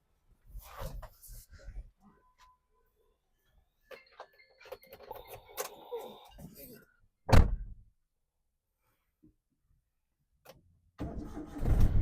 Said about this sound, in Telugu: ఒక్కటే సెల్ఫ్ లో స్టార్ట్ అయిపోయింది, ఎలాంటి స్టార్టింగ్ ట్రబుల్ అయితే లేదు.